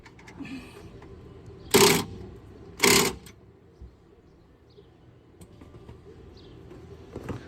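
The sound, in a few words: impact gun tightening golf cart spring bolt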